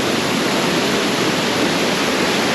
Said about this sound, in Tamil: ஒரு சின்ன ஃபால்ஸுங்க,